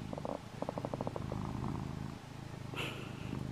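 A cat purring close up, a steady low rumbling pulse that continues throughout, with a faint short higher-pitched sound near the end and no talking.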